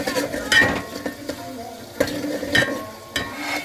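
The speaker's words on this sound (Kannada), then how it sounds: "ಇದೆಲ್ಲ ಹಾಕಿ ಸ್ವಲ್ಪ ಹಿಂಗೆ ತಿರುವಾಡಬೇಕು" Vegetables fried in a pan with chilli powder stirred through, a spoon scraping and clinking against the metal in several separate strokes over a soft sizzle, close up with no talk.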